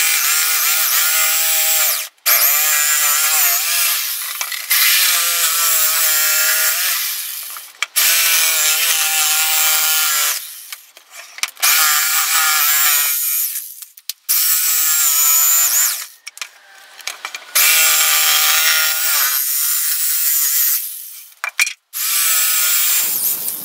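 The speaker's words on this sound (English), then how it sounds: "you need to cut round this as close as you can with the jigsaw" A jigsaw with a loose blade cuts a wooden board in loud, buzzing bursts of a few seconds each, separated by short pauses, its rattling whine close and harsh, with no talking.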